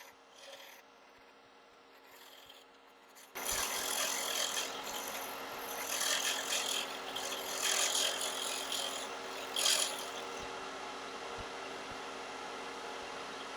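A wood lathe turns a pine cone and resin casting down to the bushings: after quiet hum, a tool's continuous rasping scrape starts abruptly and carries on, swelling and easing in loudness.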